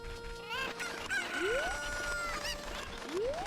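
Cucco chickens in Ocarina of Time cluck and squawk repeatedly, with rising rooster-like calls layered over a busy game soundtrack, fairly loud and without talking.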